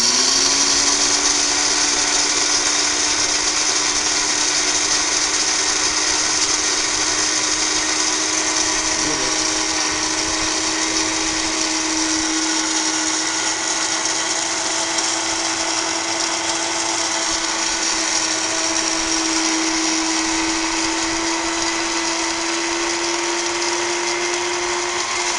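An electric grinder runs continuously, milling ingredients and salt for idli podi, a steady loud high-pitched whine with a slight rise in pitch as it keeps spinning.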